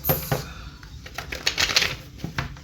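Tarot cards being shuffled by hand, a close, crisp run of rapid riffling clicks and flutters in uneven bursts, with no talking.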